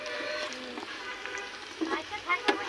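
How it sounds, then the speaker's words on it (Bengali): Shrimp frying in oil in a pan gives a steady, soft sizzle close by, with a few faint stirring scrapes near the end. "নাড়াচাড়া করে চিংড়ি মাছ দিয়ে দিলাম। এবার আমি এটা একটু ভেজে নেব।"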